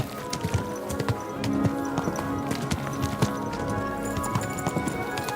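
Steady clip-clop of horse hooves on a hard surface in Kingdom Come: Deliverance 2, close and rhythmic, over a busy background of other game sounds.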